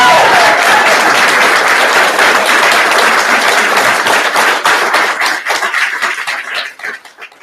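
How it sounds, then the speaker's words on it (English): Audience applause at the Link4Growth business conference, loud and dense clapping from a crowd that gradually breaks up into scattered claps and dies away. "So let's give a applause."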